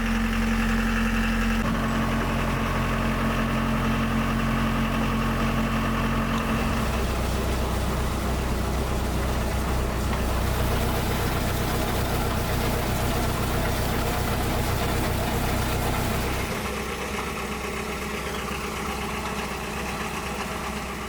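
A 50-year-old marine diesel engine idles steadily, loud and close, with a low rhythmic chug and rattling vibration; the pitch and note shift partway through, then the engine settles to a slightly quieter idle.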